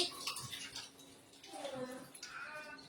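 Water trickles and drains from freshly washed rice, a quiet wet splashing and dripping that runs continuously and swells in the second half.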